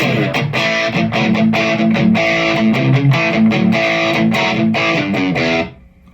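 Distorted electric guitar played dry through the Das Benzin amp model, based on the Deizel VH4 lead, on a Line 6 POD GO: loud, rhythmic chugging chords and riffs for several seconds, then an abrupt stop into quiet hum.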